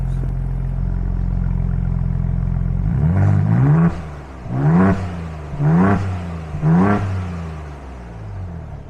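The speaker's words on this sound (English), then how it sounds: "So the cold start's not that crazy" Ford Bronco Raptor engine cold-starting with valved exhaust, a steady low idle drone, then four loud revs rising and falling in regular succession close up.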